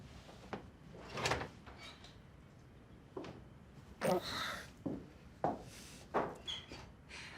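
A door is opened indoors, a series of soft knocks, latch clicks and creaking wooden thumps spread across several seconds, fairly quiet and close with no voices.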